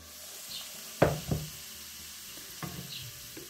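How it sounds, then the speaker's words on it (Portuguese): Onion sautéing in margarine in a pan, a soft sizzle broken by two or three clear knocks and scrapes of a stirring utensil against the pan, close and fairly quiet with no talk. "Quando você refoga a cebola com a margarina"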